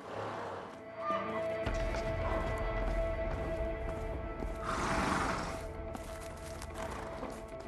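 Horses neighing and stirring in the video game A Way Out, heard fairly faint amid game ambience and a low rumble, with a louder whinny swelling midway.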